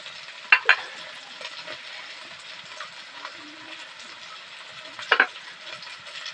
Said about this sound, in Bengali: একটু নাড়াচাড়া দিয়ে নেবো মশলাকে একটু কষিয়ে নেবো